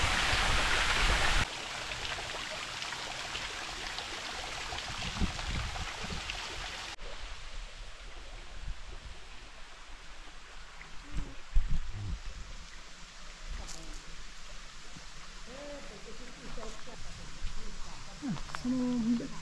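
Waterfall near a plane tree in Parco Aymerich, Laconi, Sardinia, a steady broadband rush of falling water, loud and close at first, then softer and more distant, with faint outdoor sounds and a voice.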